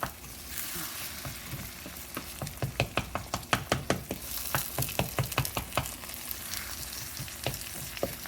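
Eggs being scrambled in a frying pan for a French toast breakfast: a steady sizzle with a run of sharp, rhythmic scraping taps from a utensil stirring against the pan, fairly close and with no talking.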